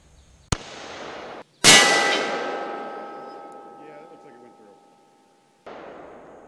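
A 5.56mm frangible round fired from an M4 carbine with a 14.5 inch barrel at about 25 feet strikes a level 3A body armor panel: a sharp crack, then a loud ringing metallic impact that fades slowly over several seconds.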